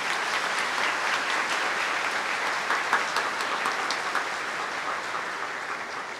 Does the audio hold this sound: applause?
yes